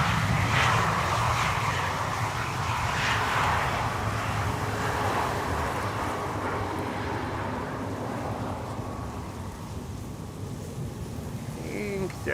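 Aircraft on approach to Schiphol's Polderbaan runway 18R, heard as a steady, loud broadband engine roar that fades slightly toward the end, with wind noise buffeting the microphone.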